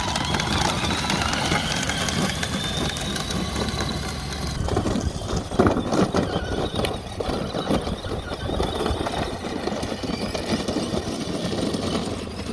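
Kids' 12V Jeep ride-on converted to run on a Milwaukee M18 battery, its electric motor whirring steadily and close for the whole stretch, with a rougher, choppier drive noise partway through as it gets going.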